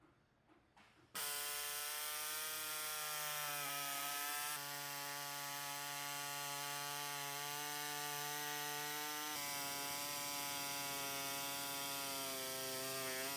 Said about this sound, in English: what we're going to be using is a mini air saw to trim off everything here